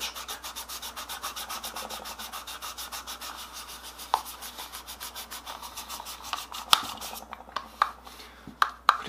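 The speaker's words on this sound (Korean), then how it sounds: "양쪽 면 모두 쓱싹쓱싹 사포에 문질러줍니다" Steady rhythmic scraping of sandpaper rubbing against a plastic taepyeongso reed, back-and-forth strokes repeating evenly on both faces, then slowing into a few scattered sharper scrapes and taps.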